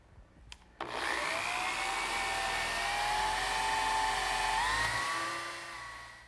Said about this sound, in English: I'm going to drill a 3/8 inch diameter, but not quite all the way through